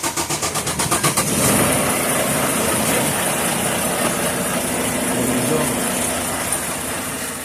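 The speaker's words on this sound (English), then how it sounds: "And now we let it crank." A semi truck fitted with four new Interstate 950 cold cranking amp batteries cranks in a quick pulsing rhythm for about a second, then the engine catches and settles into a loud, steady idle close by.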